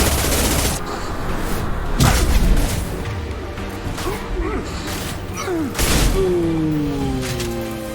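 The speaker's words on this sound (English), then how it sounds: "Firing a high impact shot" Heavy gunfire in a combat video game, with dense bursts of shots, booms and whooshing passes, loud and close throughout and ending in a ringing, sweeping tail.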